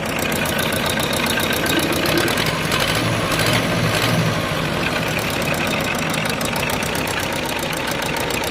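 A small Hinomoto 23 hp tractor engine idles with a steady, rapid clatter, loud and close, running evenly throughout with no voices.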